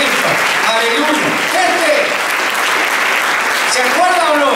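A church congregation claps and cheers in praise during a Sunday service, a dense, steady wash of applause filling the room with voices calling out over it throughout.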